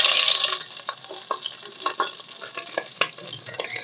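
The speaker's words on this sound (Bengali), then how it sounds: "তেল গরম হয়ে গেছে, দিয়ে দিচ্ছি তেজপাতা, শুকনো লঙ্কা আর গোটা গরম মশলা" Bay leaf, dried red chilli and whole garam masala spices sizzle steadily in hot oil for a chicken keema khichuri, with a constant bright frying hiss and occasional stirring scrapes and pops close up, no talking.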